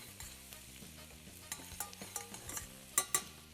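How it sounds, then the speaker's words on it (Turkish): Chili flakes stirred into melted butter in a pot for a spicy noodle soup, a soft sizzle under a few close spoon scrapes and clinks, the last two sharper and louder. "Şimdi içine pul biberler gidiyor. Bir kere karıştırıyorum"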